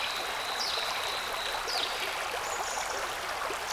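River water flowing in a steady, bright rushing wash, continuous and close, with faint birdsong chirps above it and no voices.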